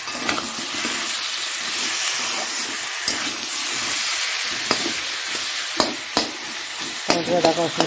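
Food frying in a pan while a chicken reshmi kebab dish is cooked, a steady sizzle with occasional sharp taps and scrapes of a utensil, and a bubbling crackle near the end, no speech.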